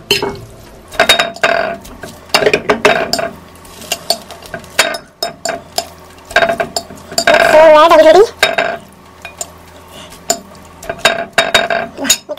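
Spicy Korean ramen noodles mixed in a bowl with utensils: repeated close clinks and wet stirring scrapes in uneven bursts, with a brief squeaky scrape partway through and no talking.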